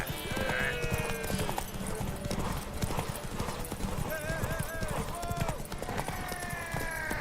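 Roach, a horse in The Witcher 3: Wild Hunt, gallops with fast rhythmic hoofbeats and a whinny, loud and close, while game characters talk over the hooves.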